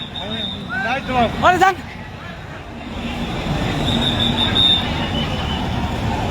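A train stops across the Mojompur level crossing in Kushtia, Bangladesh, with high metal squeals and wheel screeches early on, followed by a steady rumbling roll of wagons and a thin ringing tone.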